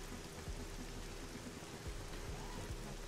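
Steady rain falling in a zombie survival video game, a soft, even hiss of drops with faint low thuds, quiet and continuous with no voices.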